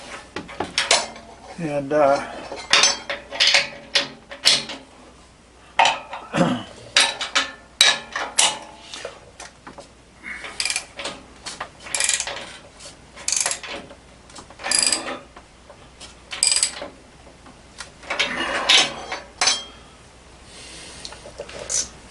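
Metal clanks and ratcheting clicks from a wrench tightening 16 mm bolts on a homebuilt offroad vehicle during assembly, a close series of irregular sharp taps and rattles with a brief spoken word.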